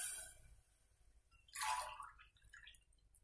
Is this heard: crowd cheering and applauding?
no